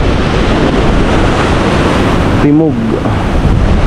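Strong typhoon wind roars in a dense, steady rush close to the microphone, with a brief spoken word breaking through near the end.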